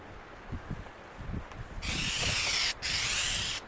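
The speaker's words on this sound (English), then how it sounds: "the wind's blowing like crazy out here" Strong wind roars across the microphone in a steady, harsh rush, briefly cutting out twice, following a few soft thumps and rustles.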